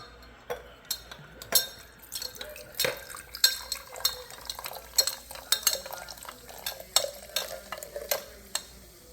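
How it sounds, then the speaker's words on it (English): A spoon stirs cream soda in a glass as it is poured to make butter beer, giving a rapid run of light clinks and scrapes against the glass with a soft fizzing hiss beneath, close by and steady. "while I pour the cream soda, you're gonna stir"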